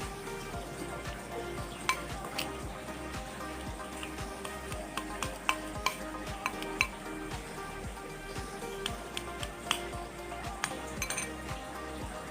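A carp fishing bait mixture with fish oil is stirred steadily, giving a continuous low churning with regular clinks and taps of a utensil against the container, fairly quiet, with no voices.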